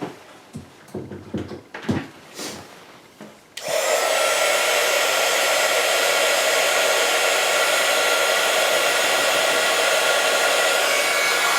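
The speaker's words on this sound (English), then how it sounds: "So I'm going to bring in my heat gun and I'm going to let it heat up." After a few brief handling clatters and knocks, a heat gun for embossing on vellum switches on and keeps up a loud, steady blowing roar to the end.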